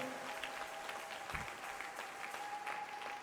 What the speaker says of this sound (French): Applaudis très bien pour le Seigneur des Seigneurs